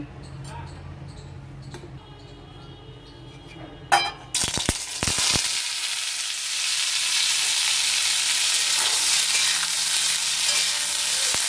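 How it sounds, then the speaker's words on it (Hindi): Cauliflower hits hot oil in a pan with a sudden clatter, then a loud, sustained sizzle and crackle that continues steadily after some quieter clinks at the start. "तेल हमारा गर्म हो चुका है, मैंने इसे पहले ही डाल दिया था गर्म होने के लिए। और इस तरह से चारों तरफ तेल को फैलाते हुए अब इस पे गोभी डाल दूंगी।"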